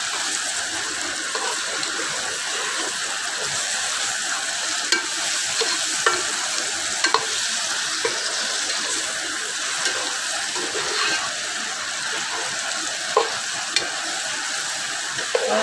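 Garlic, tomato, ginger and green chili sautéing in a pan for Kashmiri chicken, a steady loud sizzle with occasional clicks of a stirring spoon and no voices.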